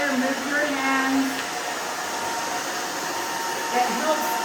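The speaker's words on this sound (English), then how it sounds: "So if you can move your blow dryer, move your hands" A handheld blow dryer runs steadily while drying a short pixie cut, its airy whoosh constant and close with slight shifts as it moves around the head.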